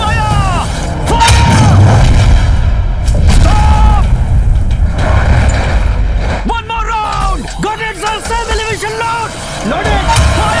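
Artillery gun firing in a war movie scene set in the 1971 Indo-Pakistani war: deep, heavy booms and rumble under shouted commands, with loud music and effects layered throughout.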